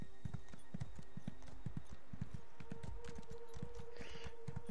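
Horse hooves clip-clopping at a steady quick rhythm in The Elder Scrolls Online, a continuous run of close, clear hoofbeats over a faint in-game ambient hum, with no talking.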